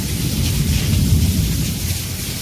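Heavy monsoon rain pours steadily, with a low thundery rumble rolling underneath, loud and continuous without any voices.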